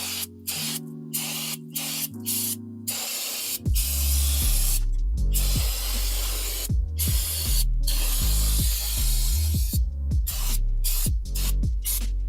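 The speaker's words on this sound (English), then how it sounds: "It's a good idea to use brake parts cleaner to clean all of this up so you get the coloration and get the dust off of everything." Brake parts cleaner hisses loudly and steadily from an aerosol can onto the drum brakes of a Toyota Corolla, in repeated close bursts with brief gaps, over about twelve seconds.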